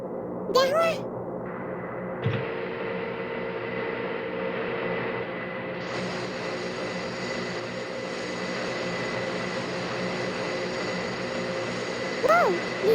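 Fighter jet engine roar from a flight video game, a continuous loud drone that steps up in pitch partway through, with a brief whistling swoop at the start and the end.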